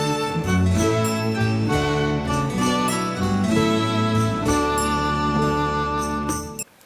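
Christmas music from A Christmas Story plays steadily and loud, layered sustained melodic chords with shifting notes throughout, no voices, ending in a brief drop at the close.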